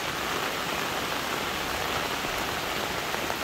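Steady, even rain falls over a home orchard of red ruby longan trees that are setting fruit, a close, unbroken hiss with no voices.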